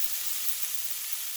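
Frozen peas frying in a pan with pearl onions nearby, a steady bright sizzle filling the short stretch without pause, close and even, no talk.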